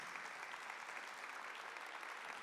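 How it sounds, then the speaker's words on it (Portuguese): Steady, dense audience applause at a church preaching event, an even wash of many hands clapping together with no voices over it. "Vamos dar uma salva de palmas para quem nos acompanha de casa?"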